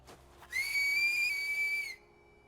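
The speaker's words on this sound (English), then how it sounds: "is he whistling for his horse?" An anime character whistles for his horse in Attack on Titan's forest of giant trees: one clear, sustained, high whistle of about a second and a half, loud and alone.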